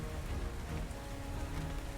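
Torrential rain pours steadily as a sound effect for a tabletop roleplaying game, a dense, unbroken roar of drops with no voices.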